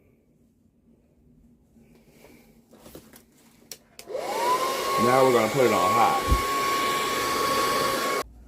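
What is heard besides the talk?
blow dryer drying hair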